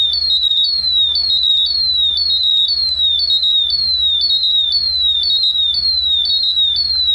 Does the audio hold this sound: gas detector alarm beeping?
yes